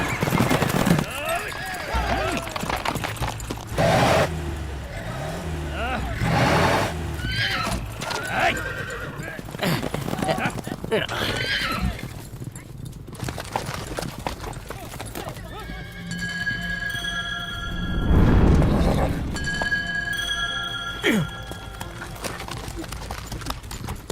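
Horses in a rough buzkashi game pound past with heavy clip-clopping hooves and repeated loud neighs and whinnies, close and chaotic, amid shouting and voices throughout.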